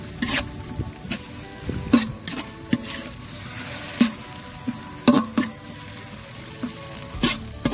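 Tomatoes frying in oil for a large batch of chicken biryani, with a steady sizzle broken by repeated scraping stirs of a ladle against the pot, close and fairly loud with no talk.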